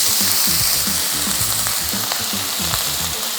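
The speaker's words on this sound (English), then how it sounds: "Once your wok's nice and hot, get your oil in, swerve it around, go in with the beef bacon." Beef bacon sizzles loudly and steadily in hot oil in a wok, a dense continuous frying hiss close up with no talk.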